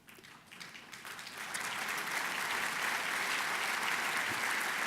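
An audience at an annual meeting begins clapping, starting sparse and quickly swelling into steady, full applause that carries on to the end.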